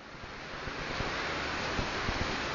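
Water surging toward the camera outdoors in 38-degree heat: a steady, broad rushing wash that builds slightly, with low thuds and no talk.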